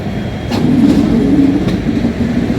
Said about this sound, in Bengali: ওইদিকে দেখতে পাচ্ছি আমরা জাহানাবাদ এক্সপ্রেস